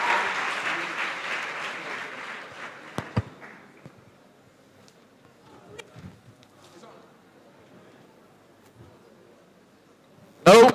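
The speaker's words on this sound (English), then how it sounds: "A round of applause for them." An audience at a career expo breaks into fairly loud applause that fades within a few seconds, leaving a quiet hall with scattered small noises and a sudden sharp sound at the end.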